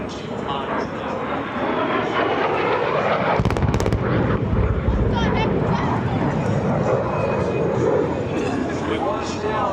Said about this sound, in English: Big Greg in the sky as he pulls over the second half in this T-33.